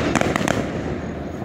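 Fireworks bursting over a lake during a Fourth of July show, with several sharp crackling pops early on that give way to a loud, sustained rumbling roar of distant explosions.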